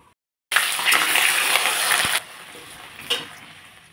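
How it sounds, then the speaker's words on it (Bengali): Thinly cut potatoes dropped into hot oil, a sudden loud sizzle that bursts up after a moment of quiet, holds strongly, then settles into a softer bubbling with a brief flare near the end. "এখন আমি আলু ভাজবো। চিরচিরি করে আলু কেটে নিয়েছি"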